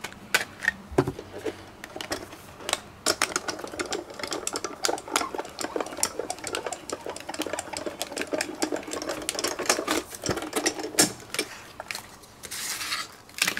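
A Diamond Press die-cutting machine runs card through an embossing folder in a quick series of sharp mechanical clicks and rattles, steady for most of the stretch with a few louder knocks, and no talk.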